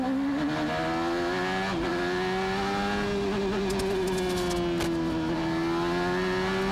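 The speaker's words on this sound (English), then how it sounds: "What's that you hear rubbing the ground on Mansell's car?" A 1993 IndyCar's engine drones loudly and steadily at Laguna Seca, with a harsh grinding scrape of its low-set rubbing strip hitting the ground breaking through near the end.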